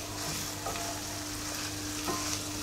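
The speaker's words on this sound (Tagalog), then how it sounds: "mapiprito siya dito sa oil, itong chicken feet" Chicken feet fry in hot oil for adobo, giving a steady, fairly quiet sizzle with a few soft scrapes of stirring.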